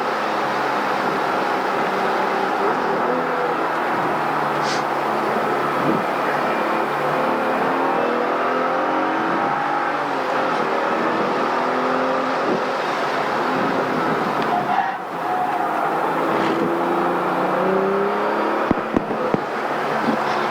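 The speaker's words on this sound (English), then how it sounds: "now I start to get on the gas and try to straighten this out" Car under hard acceleration on a race track during a high-performance driving event, engine droning steadily with shifting pitch over continuous road and wind noise, heard from inside the cabin for the whole stretch.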